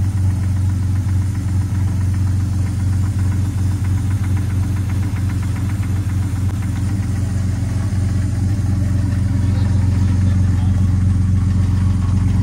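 A Jeep Grand Cherokee WJ's 4.0L engine idling after two years parked, a loud, close, steady low rumble with a faint knock running unbroken throughout.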